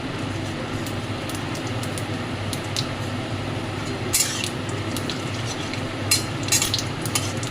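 Whole garam masala and cumin seeds fry in hot oil for a chicken kosha curry, giving a steady close sizzle with a few brief louder crackles and pops near the end.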